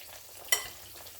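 Battered squash slices fry in hot oil, a quiet steady sizzle broken by one sharp crackle or pop partway through.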